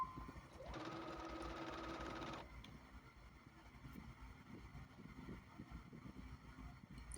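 A sewing machine stitches Ankara fabric for a scrunchie, a quiet, even mechanical whir for about two seconds before it stops, leaving faint low background hum.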